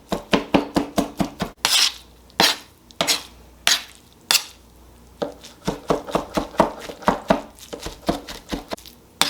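Sharp knife chopping shrimp on a cutting board for angel hair pasta, a steady run of crisp, close taps in quick bursts with a few short pauses, loud and alone without any voices.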